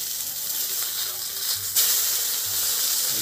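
Cumin, fenugreek and bay leaf hiss and sizzle in hot oil in a pan, a steady bright crackling that gets louder partway through as more goes in.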